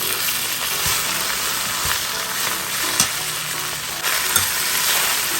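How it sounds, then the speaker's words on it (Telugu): Fresh mint leaves fry in a pan over a medium flame for a mint chutney, giving a steady, loud hiss and sizzle with occasional stirring clicks and no talking. "జస్ట్ ఒక మీడియం ఫ్లేమ్లో పెట్టుకుని ఒక 2 మినిట్స్ పాటు వేయించుకుంటే దాంట్లోని తడి ఆరిపోతుంది"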